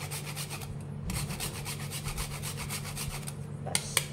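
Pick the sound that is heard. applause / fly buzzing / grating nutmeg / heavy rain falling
grating nutmeg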